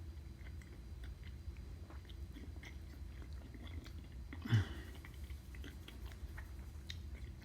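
Someone chews a bite of brined chicken close up, soft wet mastication under a low steady background hum with one brief louder thump midway, no speech.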